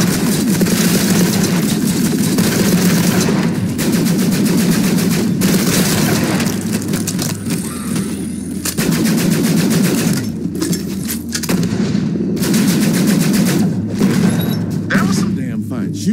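Loud rapid automatic gunfire rattles in bursts while shooting bandits in Borderlands 3, with booms and a low engine rumble beneath, and a voice talks over the shooting.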